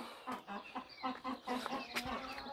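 Chickens in a henhouse clucking in a steady rhythmic series of short calls, close and fairly faint, with a sharper squawk near the end.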